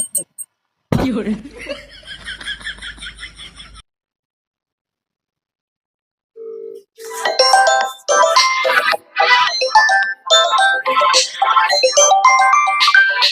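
A phone ringtone plays a short melodic pattern for a few seconds, followed by silence and then people talking and chuckling.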